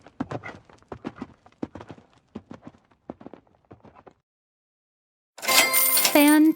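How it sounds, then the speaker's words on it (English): Horse hooves clip-clop in quick irregular beats for several seconds, close and fairly loud, then fall silent before a bright musical chime flourish begins. "Hodder rode the horse proudly around the paddock."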